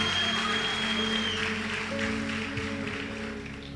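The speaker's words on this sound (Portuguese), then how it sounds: "Por favor, melhore seu aplauso a Jesus." A church congregation applauds during a Portuguese-language worship service, a broad wash of clapping under a sustained organ or keyboard chord, gradually tapering off toward the end.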